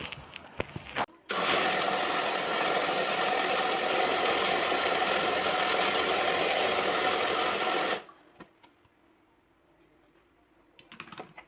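A wet grinder grinding rice for idli batter runs with a steady, loud mechanical whir for several seconds, then cuts off, leaving faint clicks and a low hum.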